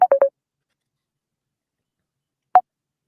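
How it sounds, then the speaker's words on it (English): Mobile phone keypad tones pressed while the phone is being switched off: three quick beeps in a row, then a long pause and a single final beep, fairly loud and alone. "Let me kill my phone."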